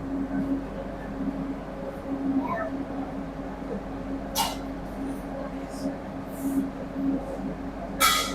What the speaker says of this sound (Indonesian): Pukul 17:26 kereta api Argo Anjasmara berangkat dari stasiun Tegal.